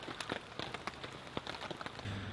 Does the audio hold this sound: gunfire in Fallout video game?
no